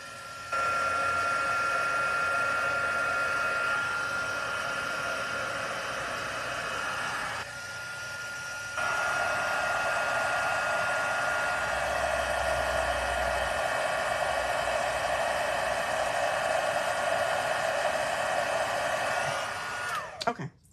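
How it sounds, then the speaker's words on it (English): A heat gun embossing a card blows a steady, close whooshing hiss that runs almost without break for about twenty seconds before cutting off, with no talk over it. "let me heat emboss this really quickly"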